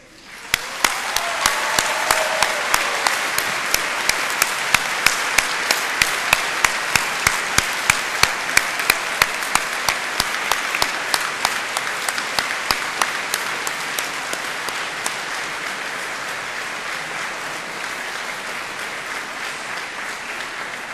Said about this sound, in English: enthusiastic round of applause.